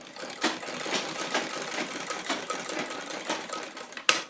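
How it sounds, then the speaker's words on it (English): Sewing machine stitching a bra cup, a fast continuous mechanical chatter with steady rhythmic pulses, close and moderately loud, ending with a brief clunk. "So let's sew the other round one."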